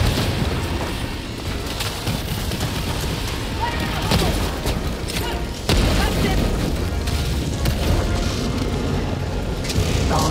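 Grenade blasts and heavy booms in Helldivers 2, loud rumbling explosions amid continuous gunfire, with a sharp burst near the middle and voices talking through the chaos.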